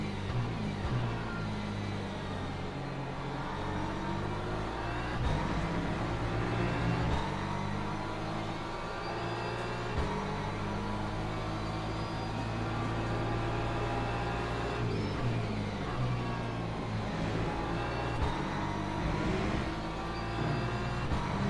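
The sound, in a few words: BMW GT3 race car driving at Imola, Le Mans Ultimate video game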